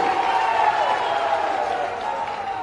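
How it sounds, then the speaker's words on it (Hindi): Audience at a BJP event in Gwalior welcoming a speaker, a continuous dense roar of clapping and crowd noise that holds steady then eases slightly toward the end, without speech. "ऐसे जयभान सिंह पवैया जी के लिए हम जोरदार तालियों से स्वागत करेंगे।"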